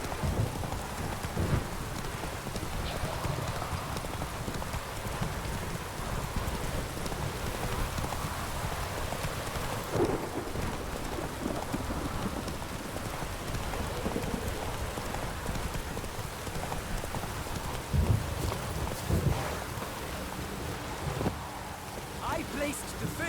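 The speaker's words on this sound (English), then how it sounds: "Ah, what a rain." Rain in a video game falls as a steady hiss, with low rumbles of thunder and a few louder cracks, while speech and horse hoof sounds come and go over it.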